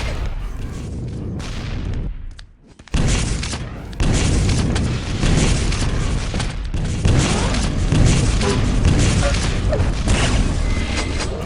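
Rocket explosions and weapon fire in a Quake Live duel match, loud booming blasts and mechanical game effects in a dense continuous stretch, with a brief dip near the start and no clear talk.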